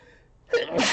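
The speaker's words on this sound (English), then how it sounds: "Hold on, I gotta sneeze here." A single close, abrupt human sneeze bursts out after a near-silent moment and trails off into a breathy rush.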